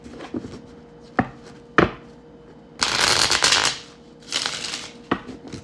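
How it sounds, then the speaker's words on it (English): Tarot cards are shuffled in several bursts of crisp riffling and slapping, with a few sharp taps between the bursts, close and fairly quiet in a room, no talking. "That was a better shuffle."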